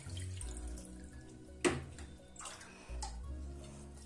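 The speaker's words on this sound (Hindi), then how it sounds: "इस तरह से हम 3 से 4 ग्लास पानी डालेंगे ताकि जो भी इसमें धूल मिट्टी" Water is poured from a glass over poha and peanuts in a bowl to wash them, a quiet trickle with one sharp splash and a few clinks, close and faint.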